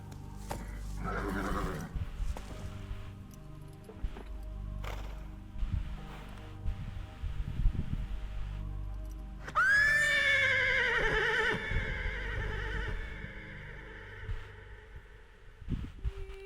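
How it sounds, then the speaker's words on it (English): Horse neighing in the video game Metal Gear Solid 3 Delta: Snake Eater, heard as a loud, clear whinny that falls in pitch midway through, after hoof clatter, thuds and low game ambience. "Horse."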